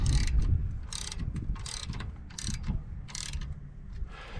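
Bolts being tightened with a ratchet while installing an HMF Swamp Series XL snorkel on a 2019 Suzuki King Quad 750 ATV, a series of short, close ratcheting clicks at a steady, repeated rhythm.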